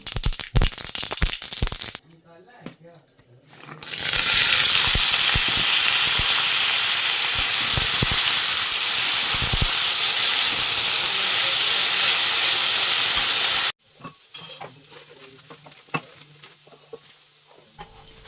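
Whole cumin, fenugreek seeds, yellow mustard seeds and a dried red chilli sizzle in hot oil in a home kitchen, a loud continuous hiss that bursts in suddenly and holds steady for about ten seconds before cutting off, with clattering before and after.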